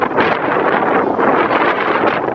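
Strong wind blowing outdoors on a cold day, roaring and buffeting the microphone loudly and continuously with no talk.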